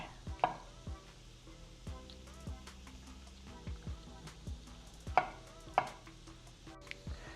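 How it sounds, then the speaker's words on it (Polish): A knife chops mushrooms on a board into small pieces, sharp irregular taps that come one at a time or in short bursts, fairly quiet and close, with no talk. "Grzyby kroimy w mniejsze cząsteczki."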